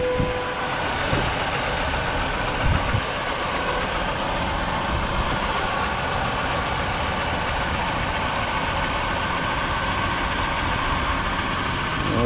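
A Chevy truck with a 3100 engine idles at a dealer auto auction, a steady, close, low rumble that holds constant throughout.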